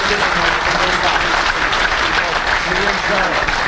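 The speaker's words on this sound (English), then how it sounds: "once again, a round of applause for Don Diffendorf Jr. and Don Diffendorf from Gray Fox" Crowd applause in the grandstand at a speedway, a steady dense wash of clapping that stays loud and near from start to finish, with no break or voice rising clearly above it.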